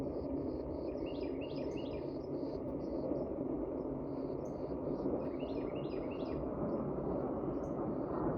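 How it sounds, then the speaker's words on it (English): Small birds chirp and twitter in short, high bursts along a wooded early-winter trail in Panther Creek State Park. The calls repeat in clusters over a steady low background hush. "Birds singing."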